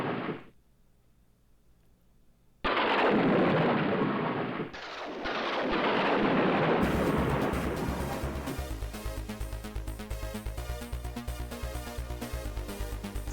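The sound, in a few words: lightning bolt thunder in the One Must Fall 2097 video game intro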